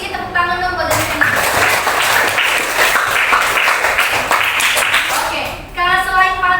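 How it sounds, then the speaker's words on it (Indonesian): Classroom students applaud a classmate named Daniel: a loud, sustained burst of many hands clapping, with voices audible just before and right after it. "Tepuk tangan dong buat Daniel"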